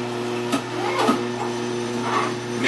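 An Omega juicer grinds apple pieces with a steady, quiet motor hum and soft crunching bursts at intervals, close by.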